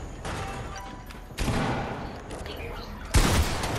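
Gunfire in the video game Fortnite cracks out in three sharp bursts, each loud onset followed by a ragged trailing rattle, with voices talking faintly underneath.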